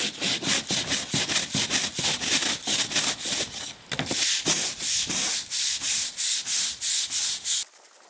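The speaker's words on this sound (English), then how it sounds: "I'm gonna quickly spray this again and then I'm gonna scrub this out" A scrub brush works cleaner into a wooden deck with steady back-and-forth strokes, a rapid, regular rasping rhythm heard close and alone, ending abruptly.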